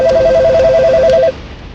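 A phone line gives a rapid warbling busy or ringing tone for about a second, then cuts off, leaving quiet background hum.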